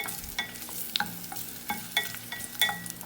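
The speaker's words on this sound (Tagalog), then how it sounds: "Nilagyan ko na ng kaunting mantika, pampagisa ng lamas. Ilalagay na natin yung luya." Ginger sizzles as it sautés in a little cooking oil for a Filipino mussel dish, a light steady frying crackle with intermittent scrapes and clinks of stirring, heard alone and close.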